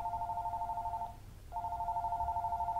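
Telephone ringing inside a video game, a steady electronic ring tone in two bursts separated by a short pause, moderately loud and without talk.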